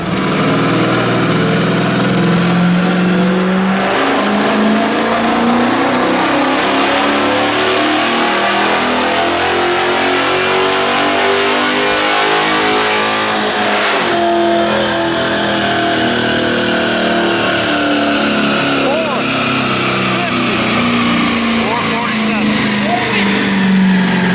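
The Ibexx Turbo Pro R roars loudly on a dyno run, its engine revving steadily up through the gears with rising pitch, dipping briefly midway before climbing again, continuous and close.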